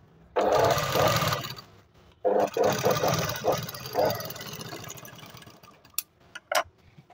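Sewing machine stitching katori blouse pieces: a close, whirring motor run for about two seconds, a short pause, then a further burst that fades, followed by a few isolated clicks and knocks.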